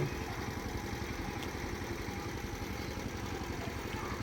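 A trawler boat's engine runs steadily throughout, a close, loud, low-pitched throbbing drone with an even idling rhythm and no talking.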